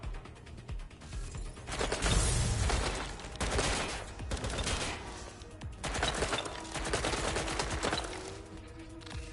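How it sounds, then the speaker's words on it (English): Gunfire in Watch Dogs Legion's resistance mode: repeated loud bursts of automatic fire and overlapping shots in clustered volleys, with mechanical clatter between them. "I'm getting shot up here."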